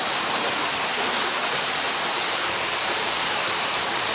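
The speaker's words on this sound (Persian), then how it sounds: "آخرش و این آبشار رؤیایی." Waterfall at the end of a rough hiking trail, a dense continuous roar of falling water, loud and steady throughout, with no voices.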